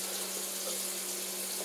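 Water pouring steadily from a kitchen tap while lunch is cooked, a constant close rushing hiss with a faint hum, no talking.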